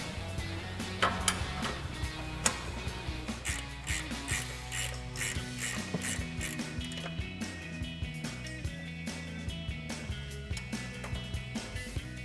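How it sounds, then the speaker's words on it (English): A 15mm ratcheting wrench works strut mounting nuts loose on a 2021-2025 Ford Bronco during a suspension lift install, with a steady run of rapid ratchet clicks and metallic rattles, close up and continuous. "We've got our 15mm ratcheting wrench."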